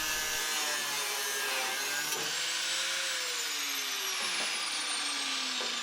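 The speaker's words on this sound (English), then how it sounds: "I used the cutting disc there to get it off" A cutting disc whines steadily through camper van body metal during rust repair, a bright continuous high-pitched grind with its pitch slowly sagging under load, close and loud throughout.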